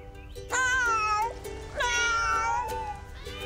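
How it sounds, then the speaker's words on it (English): Several cats meow in two long, drawn-out calls, close and fairly loud, over a faint background hum. "That's a lot of cats."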